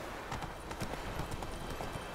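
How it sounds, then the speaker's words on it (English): Horse hooves in The Witcher 3, a rapid clip-clop rhythm of a galloping mount under steady ambient noise, moderately close. "My horse is very rude when I set it to auto-run."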